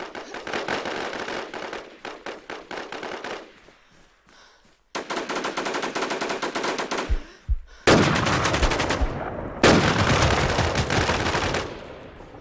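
Automatic gunfire in the online shooter Infestation, long loud bursts of rapid shots with brief pauses between them, with no talk.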